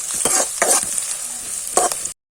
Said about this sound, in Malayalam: ഇത് നന്നായിട്ട് വഴറ്റി മൂപ്പിച്ചെടുക്കാം.